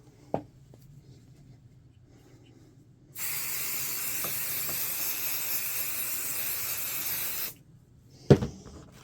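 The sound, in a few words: spraying adhesive from a spray can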